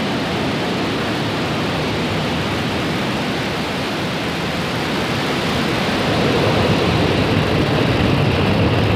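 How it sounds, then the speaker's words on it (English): Falcon 9 rocket engines roar at liftoff: a dense, steady, broadband rumble that never lets up and swells slightly toward the end, with no voices over it. "Ignition and liftoff."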